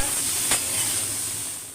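Eggs frying in a pan in a home kitchen, with a steady, close sizzling hiss throughout and a brief brighter burst near the start, no voices.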